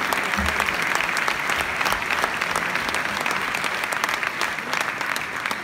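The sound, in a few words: applause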